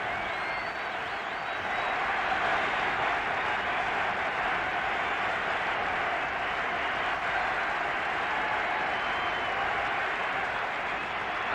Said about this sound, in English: And the crowd rapturous in their welcome.